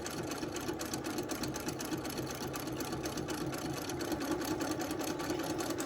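A sewing machine hums steadily in rapid, even stitching while free-motion quilting circles on a practice quilt, running continuously at moderate volume.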